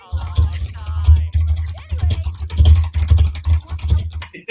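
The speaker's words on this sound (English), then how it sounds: "I'm just laughing at like the typing noise" Rapid, continuous clatter of typing on a computer keyboard, near and steady throughout, over a constant low hum.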